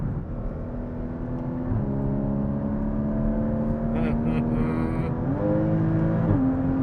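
A Porsche Cayman GTS engine revs as the car drives, heard from inside. The engine note climbs steadily, then drops with each gear change. The revving is strong but not overpowering, and a brief higher whir rises partway through.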